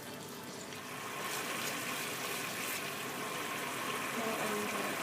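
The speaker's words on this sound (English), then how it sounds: "And boil for 1 minute." Mapo tofu sauce thickened with corn flour bubbles in a pan, a continuous close hiss and sizzle that grows slightly louder and stays steady throughout.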